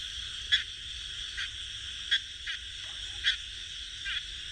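A frog croaks in short, evenly spaced calls, roughly one every second, moderately near over a quiet, low background hum.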